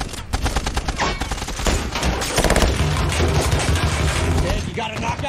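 Militants' technical weapons fire in heavy, continuous bursts during a street battle in the film 13 Hours, loud overlapping automatic gunfire cracking rapidly across the whole stretch.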